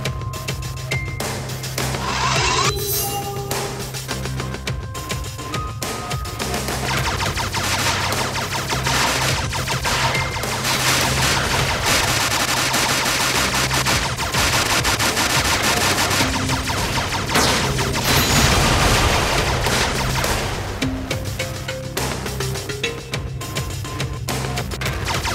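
Continuous rapid gunfire in the VR shooter Interleave, a dense, steady barrage of weapon fire with explosions and crashes layered over game music for the whole stretch, no voices.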